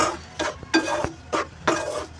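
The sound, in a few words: stirring ginger sweet mixture in hot pan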